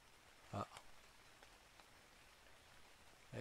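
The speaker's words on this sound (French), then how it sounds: "Et il pleut" Rain falls in the video game Ark as a steady, soft hiss, broken by a couple of brief louder thumps.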